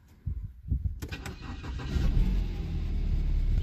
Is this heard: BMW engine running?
yes